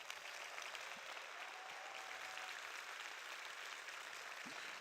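A large conference audience at a circular economy forum claps warmly for a music group, giving a steady wash of applause that holds evenly throughout without talk.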